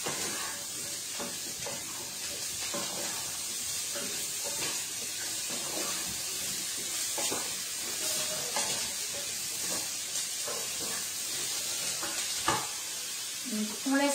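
Carrots for a winter vegetable curry fry in a pan over raised heat, a steady close sizzle broken by frequent stirring scrapes and a sharp clatter late on.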